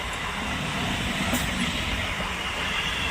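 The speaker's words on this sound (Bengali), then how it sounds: "লোকাল ট্রেন যাচ্ছে, হাওড়া যাচ্ছে, হাওড়া।" A local passenger train on the Howrah–Bardhaman chord line rumbles steadily past at close range, a continuous heavy roar of rolling wheels with a brief high squeal partway through.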